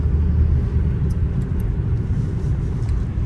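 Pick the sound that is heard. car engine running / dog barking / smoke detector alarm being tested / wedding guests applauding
car engine running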